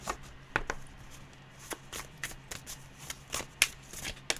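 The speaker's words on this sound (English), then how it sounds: "I'm just going to shuffle this deck 3 times" A deck of tarot cards is riffled and tapped in several quick bursts, crisp papery flicks and soft thumps arriving at irregular intervals, close and fairly quiet with no voice.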